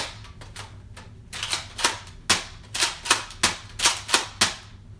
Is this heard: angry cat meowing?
no